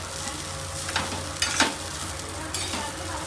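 Rice with onion frying in a pan while it is stirred, steady sizzling broken by a few scraping stirs, close and fairly quiet with no talk.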